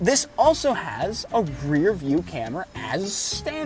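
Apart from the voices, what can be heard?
No everyday noise stands out behind the speech.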